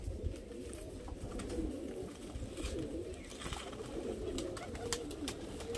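Madrasi pigeons coo softly and repeatedly at close range, their low murmuring calls overlapping against a steady background hum with no clear talking.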